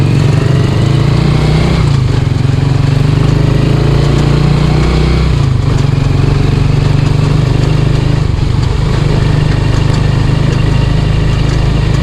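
A motorcycle engine fitted with an aftermarket muffler idles loudly and steadily up close with a deep, throaty exhaust rumble and slight fluctuations.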